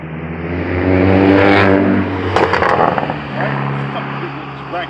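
A loud car revs hard and close, engine roar swelling then dropping, with sharp popping bursts that could be backfires midway; someone talks over it.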